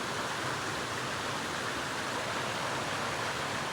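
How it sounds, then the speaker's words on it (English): Rough Creek pours into the Cohutta River at their confluence, a dense, continuous rush of flowing water filling the air evenly, with no voices. "this is the confluence of Rough Creek here on the left, flowing into"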